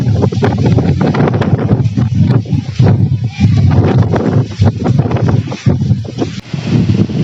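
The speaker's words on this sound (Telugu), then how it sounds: "భయంకరమైన గాలులు వీస్తున్నాయి" Loud, continuous wind buffeting the microphone in strong gusts, a roaring rumble with metal roof sheets rattling mixed in.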